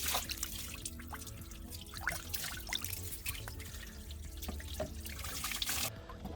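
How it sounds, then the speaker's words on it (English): Water trickles and splashes steadily in an outdoor bird water feature with the flow turned down low, a continuous close babble with small drips, no voices. "Just want to have some moving water out here for the birds this winter."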